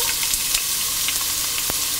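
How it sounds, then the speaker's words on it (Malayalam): Small onions fry in hot coconut oil for fish roe thoran, crackling and sizzling close up as a spoon stirs and taps against the pan. "ആദ്യം തന്നെ ഒരു പാത്രത്തിൽ വെളിച്ചെണ്ണ ഒഴിച്ച് ചൂടായ ശേഷം എടുത്തു വച്ചിരിക്കുന്ന ചെറിയ ഉള്ളി,"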